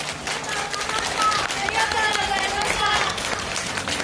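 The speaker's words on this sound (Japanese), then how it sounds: "どうぞ皆様今一度大きな拍手をお送りください" A crowd at a Japanese street festival applauds a cheer dance team, with dense, sustained clapping and crowd noise filling the whole stretch at moderate loudness.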